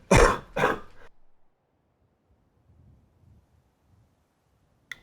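Two sharp, close coughs in quick succession from a man playing Fallout 4, followed by near silence with faint low rumbling.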